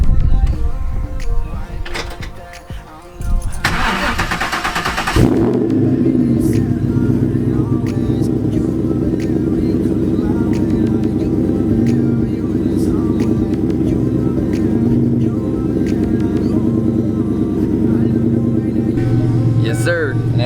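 A car fitted with a Spec Stage 2 clutch driving, with a door shutting and the engine starting, then a steady low engine drone and road rumble from inside the cabin while someone talks over it.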